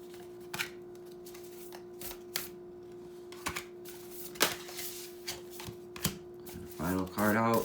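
Oracle cards from a Divine Feminine deck being shuffled by hand up close, with a run of soft riffling flicks and sharper taps over a steady hum, then a voice starts speaking at the end.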